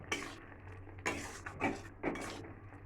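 Spoon scraping and stirring garam masala into a mushroom and pea gravy in a pan: four short, close scraping strokes about a second apart, with no talk.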